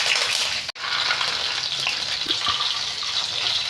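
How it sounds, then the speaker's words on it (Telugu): Garelu, South Indian lentil fritters, frying in hot oil: a loud, dense, steady sizzle and crackle that runs throughout, broken only by a brief dropout near the start. "ఇగోండి గారెలు కాలుతున్నాయి చూడండి"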